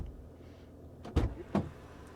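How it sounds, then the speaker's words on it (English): The door of a 2023 Corvette is opened: two soft, muffled thumps about half a second apart, quiet and close against a low ambient hum. "He's going to open the door too, isn't he?"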